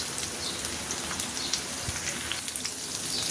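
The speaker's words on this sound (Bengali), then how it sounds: "এখন এটাকে আমি আস্তে আস্তে করে শ্যালো ফ্রাই করে একটু ভেজে নেব" Chicken kofta shallow frying in oil in a frying pan for a chicken malai kofta curry, giving a steady close crackle and sizzle with scattered pops and no talking.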